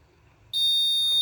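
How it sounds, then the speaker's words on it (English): An Arduino-based vehicle anti-theft alarm triggered by an unrecognized fingerprint switches on abruptly partway through, a loud, steady high-pitched piezo tone held continuously after a quiet start. "finger not found, try again later. So image red LED on, alarm on."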